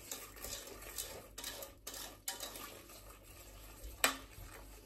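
Corn flour and sugar are stirred into a smooth paste in a bowl: faint, soft scraping with a few light spoon clinks and taps, close by and with no voices.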